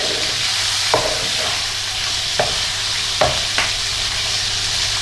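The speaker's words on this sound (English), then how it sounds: "I'm not really going to brown the onions off, I'm just going to soften them." Onions soften in a pan with a steady low sizzle, broken by a few sharp clicks and scrapes of stirring, close up and with no talk.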